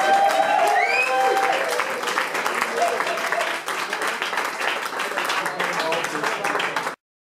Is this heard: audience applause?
yes